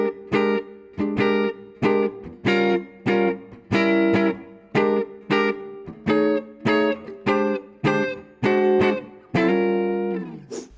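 Guitar plays the opening four bars of a blues using 9th and 13th chord melodies, a sequence of crisp, evenly spaced plucked chords with ringing overtones, the last one sustained and fading, heard close and alone.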